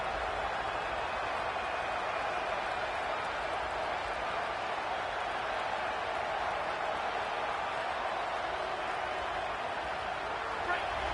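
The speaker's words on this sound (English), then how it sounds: "This crowd bringing the energy and noise early." A football stadium crowd gives off a dense, continuous roar of cheering and noise that stays steady throughout.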